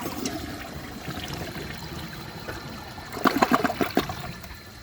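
A Glacier Bay all-in-one toilet with a weak flush and fully glazed trapway flushes a washcloth; steady rushing water runs throughout, then a louder gurgling surge of bubbly pulses near the end.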